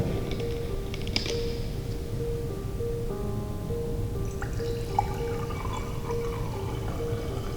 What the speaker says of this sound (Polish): jak nalejemy do tego kubka wodę